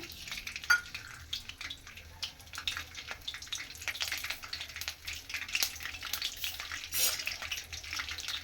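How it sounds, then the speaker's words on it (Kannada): Peanuts fry in hot oil in a pan for a bisibele bath tempering. A continuous close crackling sizzle carries on throughout, with occasional stirring scrapes and spatters. "ಶೇಂಗದ ಕಾಳು ಸ್ವಲ್ಪ ಎಣ್ಣೆ ಫ್ರೈ ಆಗಲಿ."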